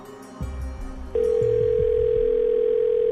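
A telephone call connects: after a brief ringing, a steady, loud continuous tone holds for about two seconds.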